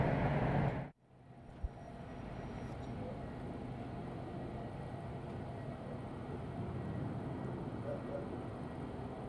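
An Airbus A320neo airliner at windy Madeira airport gives a steady, broad roar of engine noise that begins abruptly after a brief cut and holds at an even level, with no clear talk over it.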